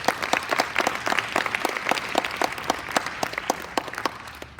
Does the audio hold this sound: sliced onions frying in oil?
no